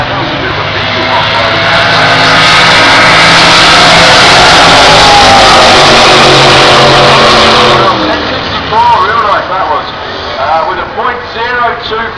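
A Camaro drag racing car launches down the strip, its engine roaring loud and sustained before fading into the distance. A commentator talks over the sound throughout.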